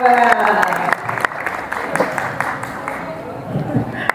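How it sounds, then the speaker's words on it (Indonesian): Audience applause at a gathering of four martial arts schools, a burst of crowd clapping that starts strong and settles into scattered claps, with a voice speaking over it. "Tepuk tangan dulu."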